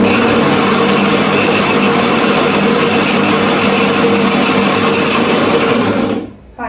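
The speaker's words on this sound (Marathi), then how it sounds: "चला मी मिक्सर लावून घेतोय बघा." A mixer grinder running continuously at high speed while blending idli ingredients, a loud, steady whirring drone that cuts off abruptly near the end.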